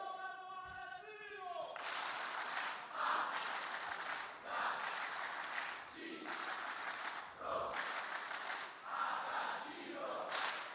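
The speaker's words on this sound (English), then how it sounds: "Applause. Applause." After a brief tonal sound, a crowd at a youth conference opening ceremony breaks into sustained applause and cheering that swells and dips in waves.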